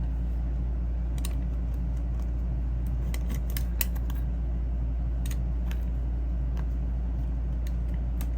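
Scissors snip through craft material for sea shell candle holders in a series of short, crisp cuts scattered irregularly over a constant low room rumble.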